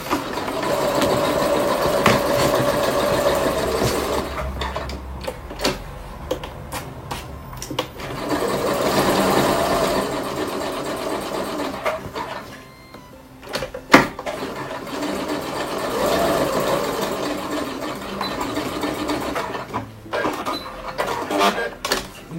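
A sewing machine stitches the crossed pieces of a hair volumizer, running in steady mechanical bursts with brief pauses and one sharp click partway through, close and fairly loud, with no talking.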